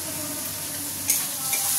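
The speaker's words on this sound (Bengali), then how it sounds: "লাল লাল করে এই পেঁয়াজটাও ভাজা হয়ে গেছে।" Onions sizzle steadily in a hot pan as they fry until reddish-brown, a continuous close hiss with a brief stirring clatter partway through.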